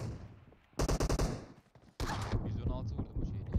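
Gunfire in the mobile battle royale game PUBG Mobile: a quick string of about five loud shots in fast rhythm, then another heavier burst, with voices chattering underneath and around the shooting.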